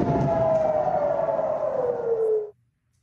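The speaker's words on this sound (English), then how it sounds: "You heard their sirens and explosions tonight in the coastal city of Ashkelon" A single loud air-raid siren wail in the coastal city of Ashkelon holds then slowly falls in pitch before cutting off abruptly, leaving near silence.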